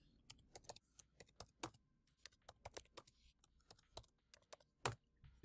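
Typing on a computer keyboard, a quick irregular run of crisp key clicks close by and fairly quiet, with a few louder strikes near the end.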